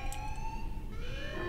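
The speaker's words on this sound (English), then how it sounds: "Alarm. Structural damage. Warning." A wailing alarm siren in the Warhammer 40k Space Marine video game sweeps up and down in pitch, loud and continuous over a low rumble.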